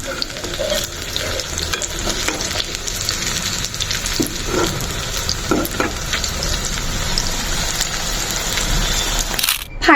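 Maggi egg pakoras fry in hot oil with a constant close sizzle and bubbling crackle, punctuated by a few scraping stirs and turns of a spatula, ending in a brief clatter; no voices.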